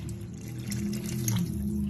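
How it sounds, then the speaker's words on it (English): Water poured into an Instant Pot holding black-eyed peas and butter, a steady close splashing pour lasting about two seconds with no talk. "Put a little water in."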